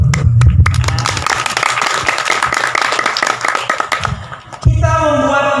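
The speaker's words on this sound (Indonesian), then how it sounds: "ya tepuk tangan dulu" A crowd at a speech by the head of a Quran memorization pesantren breaks into dense, rapid clapping, loud and close, which fades out before speaking resumes at the end.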